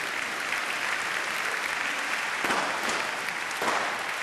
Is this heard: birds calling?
no